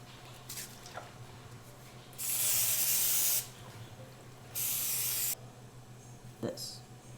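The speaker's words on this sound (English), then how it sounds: "we're gonna coat these with cooking spray." Two sustained hissing bursts of aerosol cooking spray, the first about a second long and the second slightly shorter, close to the mic, with faint handling noises between.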